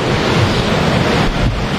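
A river in the Ecuadorian páramo gives a loud, continuous rushing wash of water, close by and steady, with some wind buffeting the microphone.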